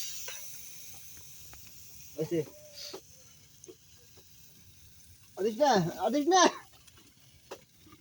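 Hilsa fish pieces fry in a pan, giving a steady, fairly faint hiss throughout, while people talk briefly over it.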